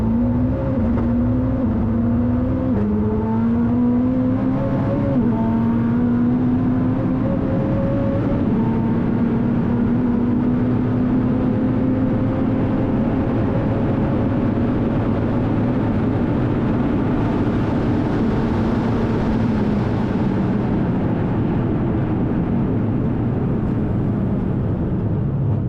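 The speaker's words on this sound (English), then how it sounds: "let's take a look right from the cabin as this car picks up speed" A Koenigsegg hypercar making 1,625 horsepower on E85 ethanol accelerates hard, heard from the cabin, its engine note rising through several quick gear shifts into a long, sustained, loud roar that climbs steadily in pitch.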